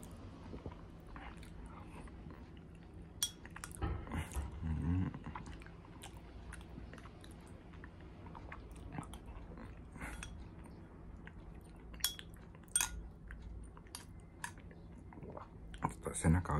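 Someone chews breakfast quietly at close range, soft irregular bites and crunches spread across a hushed room, with occasional faint clicks.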